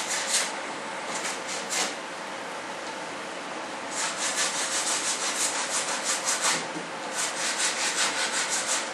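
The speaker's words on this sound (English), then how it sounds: "I need to sand this little bit of wood" Steady close sanding of a small piece of wood for an F-105 Thunderchief model kit, continuous gritty rubbing in quick back-and-forth strokes that grow more rhythmic midway, alone without voices.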